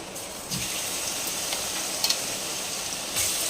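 Cumin seeds, dried red chilies and crushed garlic sizzle in oil for a mango pickle tempering, a soft, even frying hiss with a few brief clinks and no voices.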